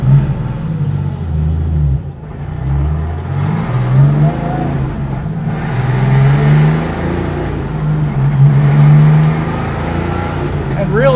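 An air-cooled flat-six in a Porsche 993 Carrera RS Clubsport revs and pulls through gears with a loud, close mechanical clatter and rising whine, while someone talks over the engine.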